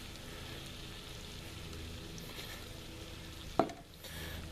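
Diced tomatoes tipped into a chili pot cooking over a backyard fire, giving a steady low sizzle and stir with one brief louder splash or clatter near the end.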